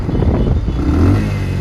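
A KTM Duke 250 motorcycle exhaust with its dB killer fitted runs loud and close, a deep, throaty rumble with a slight rise in revs and no talk over it.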